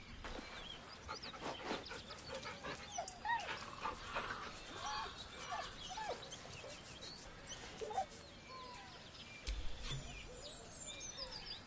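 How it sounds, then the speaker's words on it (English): A dog whimpers nervously in repeated thin, high whines and yips, fairly faint, with birds calling in the background. "The dog whimpers nervously"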